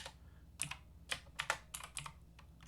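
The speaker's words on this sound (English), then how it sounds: "I can type them in here as well" Typing on a computer keyboard, soft close clicks of individual keystrokes in an uneven rhythm, several quick taps clustered together in a quiet room.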